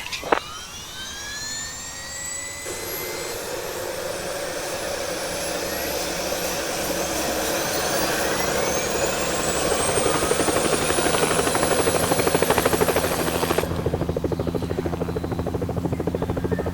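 A helicopter engine in the Helicopter Simulator 2014 video game spools up from a start, a turbine whine rising steadily in pitch and loudness over a heavy rotor rumble, then settling into a sustained roar.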